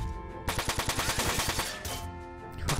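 Rapid bursts of machine gun fire in the mech tactics game Front Mission 4 on PS2, a loud rattling volley with sharp repeated shots that pauses briefly and resumes.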